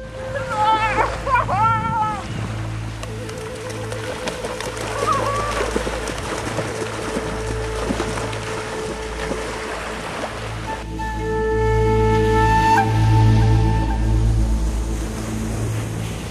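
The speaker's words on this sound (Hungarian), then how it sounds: "körülnéztünk kicsit az északi tenger partján" Waves washing onto the North Sea shore at Helsingborg, a steady roar of surf with wind buffeting the microphone, while people talk faintly in the background and a deep engine-like hum swells toward the end.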